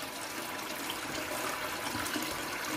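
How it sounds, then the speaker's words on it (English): Toilet cistern refilling after a flush, with blue-tinted water from a cistern block, a steady continuous rush and hiss of running water, close and even throughout with no talk. "See, it's refilling."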